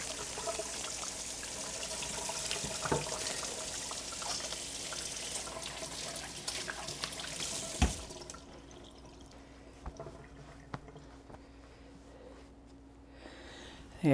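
Running tap water splashes steadily over hands being washed at a kitchen sink, with drips and a trickling flow that cuts off partway, leaving quieter dripping and small clinks afterward.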